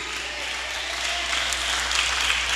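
A church congregation breaks into sustained applause, a dense, even clapping that carries steadily from start to finish with no talk over it.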